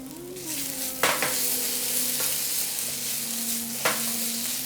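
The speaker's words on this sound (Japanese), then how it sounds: "ここでじゃがいもを入れてあげます。 で、ここで塩また1つまみ入れてあげます。" Potatoes and a pinch of salt stir-fry in a pan with onion, garlic and ginger, a steady sizzle with a sustained tone underneath and a few sharp scrapes of a utensil, no voices.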